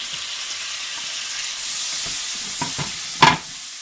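Tomatoes sizzle in a frying pan for Kenyan stew, a steady hiss broken by a few scraping stirs of a utensil. One louder clatter comes near the end.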